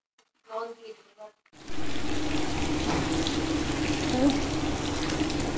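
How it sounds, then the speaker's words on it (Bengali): Water poured into a simmering chicken curry, a steady loud gushing splash that runs without a break after a short spoken phrase at the start. "এবার আমি জল দিয়ে দিই"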